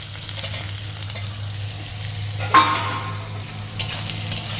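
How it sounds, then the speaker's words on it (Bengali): Potatoes frying and being stirred in a pan, added after fried lentil dumplings for a spinach ghanta dish: a steady close sizzle with a couple of sharp scraping stirs, no voices. "এবারে আলু নাড়লাম, ভালো করে নাড়তে হবে"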